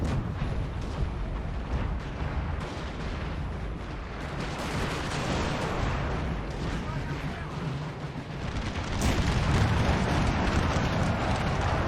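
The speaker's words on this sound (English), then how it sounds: "Shrapnel artillery, maybe a howitzer." Shrapnel artillery and howitzer fire in a Napoleon Total War battle, a dense rolling barrage of booms and bursts, loud and continuous, growing heavier near the end, with a voice talking over it.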